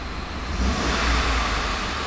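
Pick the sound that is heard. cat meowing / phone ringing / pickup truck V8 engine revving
pickup truck V8 engine revving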